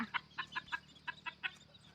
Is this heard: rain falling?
no